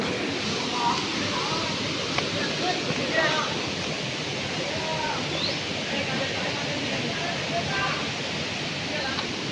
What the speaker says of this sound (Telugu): వాటర్ ఇట్లా వస్తున్నాయి